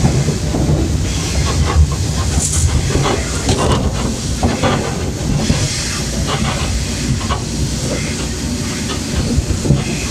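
A long double freight train rolls loudly along the rails in northern Russia, with a continuous heavy rumble, hiss and faint clickety-clack close by.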